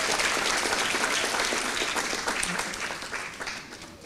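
Congregation at an Ohio revival meeting clapping together, a thick sustained burst of applause that gradually thins and softens near the end.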